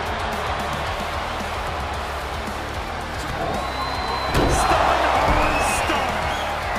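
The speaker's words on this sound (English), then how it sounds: "The sound of this crowd is deafening," Arena crowd in the video game WWE 2K22 roars steadily throughout a ladder match, a loud continuous wash of cheering that swells slightly near the end, with a commentator's voice running over it.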